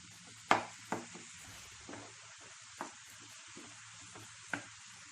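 Tomatoes frying in a pan on the stove, turning soft while being stirred: a low, steady sizzle under a handful of sharp spatula scrapes and knocks spaced about a second apart, close and moderately quiet.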